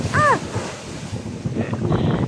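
Steady wash of big surf and wind buffeting the microphone at a rocky seaside resort in the Camotes Islands, with a brief high whistle-like chirp near the start.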